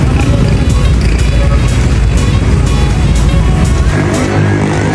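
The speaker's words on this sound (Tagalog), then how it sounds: "Traffic." Road traffic in Binangonan passed on a bike ride: a steady, loud, close rumble of car and motorbike engines and tyre noise that fills the whole stretch and eases slightly near the end.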